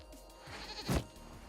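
A goat in the video game Dragon Age: Inquisition gives a single short, loud bleat near the middle, with faint game ambience around it.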